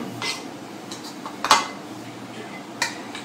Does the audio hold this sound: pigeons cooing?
no